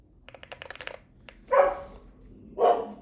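A dog indoors gives two loud, separate barks about a second apart, after a quick run of computer keyboard typing.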